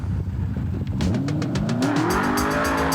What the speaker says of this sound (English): We want to thank Paul Basil for giving us a nice look here at his beautifully restored 1934 Ford Coupe.